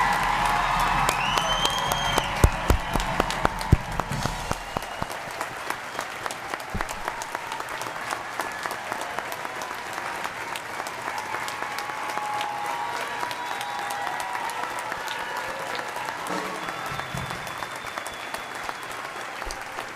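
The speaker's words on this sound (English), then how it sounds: "Please join me in another round of applause for our graduates." Sustained applause from a large audience for graduates at a spring quarter graduation ceremony, dense and steady clapping that fills the room, with a few faint cheers and voices mixed in.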